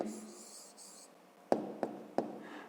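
A pen writes an answer in a school maths exercise, a faint scratch followed by three distinct taps of the pen on paper, quiet and close.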